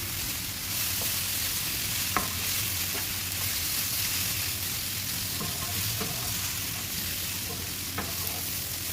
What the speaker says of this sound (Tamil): இதை நல்லா இடைவிடாமல் கிளறிட்டே இருக்கணும்